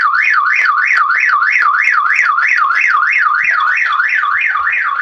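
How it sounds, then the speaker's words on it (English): A home security alarm sounds loud and steady, a rapid warbling siren tone that rises and falls repeatedly without pause, with no voices over it. "Alarm, front door, alarm, kitchen, motion detector,"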